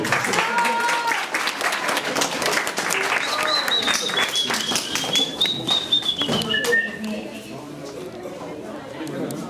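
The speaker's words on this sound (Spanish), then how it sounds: "Un aplauso." A school audience of language students applauds a classmate about to tell a story, dense clapping filling the room with chatter and scattered voices mixed in, staying loud throughout before thinning slightly at the close.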